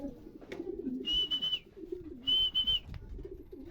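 Pigeon cooing near a loft in Rosales, Pangasinan, on its return from a race, two clear bursts of cooing with a steady whistling tone, close and fairly loud over low background noise.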